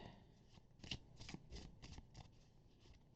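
Tarot cards shuffled by hand at close range, a run of soft papery riffles and flutters in uneven bursts over a quiet room, with no talking.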